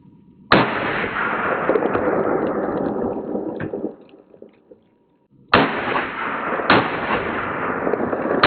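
Rapid bursts of AK rifle fire with hollow point rounds, loud and close, in long strings of shots: one sustained volley, a pause, then two more volleys.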